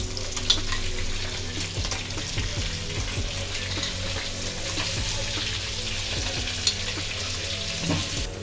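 Pomfret fish frying in hot oil, a steady, close sizzle and crackle that holds evenly throughout with a few sharper pops and spatters.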